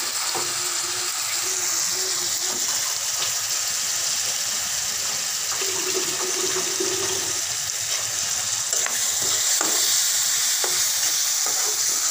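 Dried local shrimp powder frying and being stirred in a pan with garlic and salt, giving a steady close sizzle with scraping stir noises throughout.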